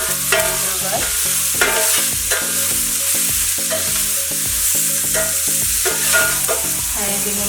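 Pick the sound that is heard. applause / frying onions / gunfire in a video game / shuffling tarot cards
frying onions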